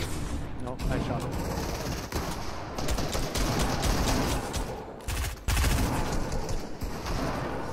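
Gunfire in the video game Fortnite, rapid repeated shots in dense bursts through most of the stretch, loud and close, with players talking over it.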